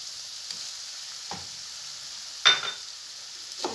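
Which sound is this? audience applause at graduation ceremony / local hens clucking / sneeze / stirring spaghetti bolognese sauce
stirring spaghetti bolognese sauce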